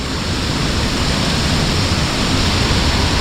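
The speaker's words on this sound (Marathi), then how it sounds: "आपला हा ओढा आहे" A village stream in the Konkan rushes steadily with a broad, continuous roar, loud and close, without pause or voices.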